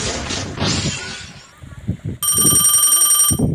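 An electronic telephone ring trills loudly for about a second, following a stretch of people talking, with a voice resuming right after it.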